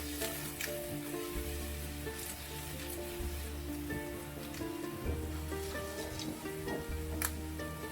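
Boiled potatoes stir-fried in a pan for a spicy aloo masala, giving a steady soft sizzle with light crackles and occasional scraping stirs, fairly quiet and close, with no talking.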